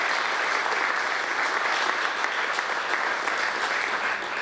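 A seated audience at the Ceramica Dolomite headquarters breaks into warm, sustained applause, a dense even clatter of many hands clapping without pause.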